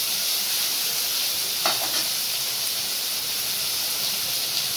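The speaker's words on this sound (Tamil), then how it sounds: "போட்டு வதக்கலாம் வெங்காயம் வந்து பச்சை மிளகாய் கருவேப்பிலை" Onions, green chillies and curry leaves sauté in hot oil for a tomato kurma to serve with idli, giving a steady, hissing sizzle with a brief louder crackle, close and continuous.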